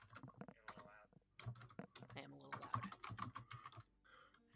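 Typing on a computer keyboard during a gaming session, rapid clicky keystrokes in bursts, fairly close, with some talking mixed in.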